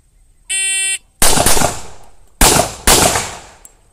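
Three sharp gunshots from a 1911 pistol firing .45 ACP at a shooting range, loud and close, with the first shot standing apart and the last two quicker together, preceded by a brief electronic timer beep.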